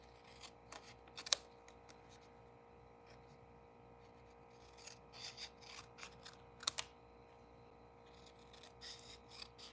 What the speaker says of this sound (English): And I just snipped off like that.